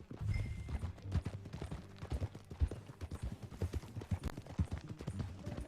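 Horse hooves clip-clop in Red Dead Redemption 2, a quick, uneven rhythm of close, moderately loud hoof strikes that carries on for several seconds.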